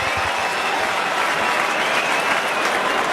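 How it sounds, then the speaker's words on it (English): Sustained crowd applause fills the ground at the 2022 AFL preliminary final between Geelong and Brisbane, a steady dense clapping wash that holds evenly throughout without clear voices. "The applause you hear is for Jeremy Cameron"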